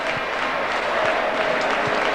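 Warm applause from a football crowd at the final whistle of a match featuring a non-league Southern League Midland Division side, steady and dense throughout with no other sounds rising above it.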